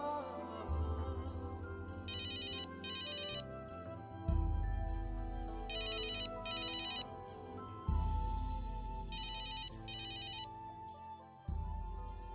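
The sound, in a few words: phone ringtone ringing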